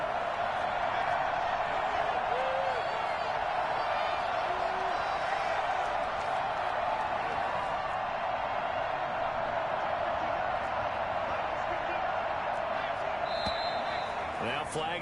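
Steady roar of a home football stadium crowd during a Falcons game, loud and unbroken throughout, with a commentator talking over it.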